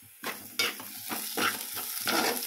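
Mushrooms and chopped onions frying in a pan while being stirred, loud close sizzle broken by repeated scraping strokes of a spoon, no voices.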